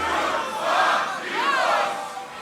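Large audience at the Grand Beatbox Battle 2019 roars and yells to vote between beatboxers, a loud sustained crowd cheer that swells twice with scattered shouts and whistles.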